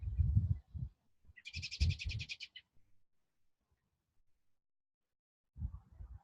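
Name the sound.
bird calling outdoors near a trailer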